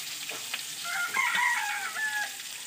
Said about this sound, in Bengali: আবারও যেগুলো আছে আমি দিয়ে দেবো, সেগুলোও ভেজে নেব